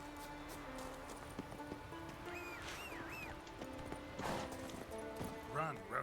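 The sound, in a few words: horse Roach running, The Witcher 3 video game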